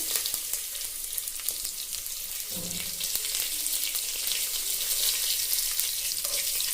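Byadagi and Guntur dried red chillies fry in hot oil with cumin, asafoetida and curry leaves for a bisibelebath tempering, giving a steady close bright sizzle with occasional spatters and pops.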